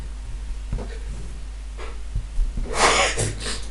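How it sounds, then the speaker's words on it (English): A sudden sneeze bursts out during a spoken maths tutoring session, one short loud explosive burst with a breathy intake before it, standing alone with no talk over it. "Oh, God, sneezes"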